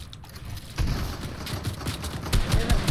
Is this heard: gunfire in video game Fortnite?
yes